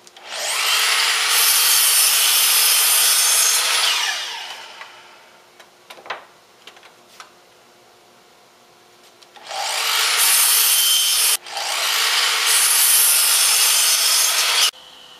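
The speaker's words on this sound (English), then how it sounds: "You're going to need to cut 4 4-inch pieces and 4 5-inch pieces from your 2x6." A 2x6 wooden board is sawn into short pieces with a power saw, two loud bursts of cutting separated by a quiet pause with light handling knocks, the blade screaming through the wood each time.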